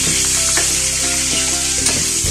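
Shrimp sizzle loudly in a hot pan while chopsuey is cooked, a steady close frying hiss with a few clinks of a utensil stirring and no talking.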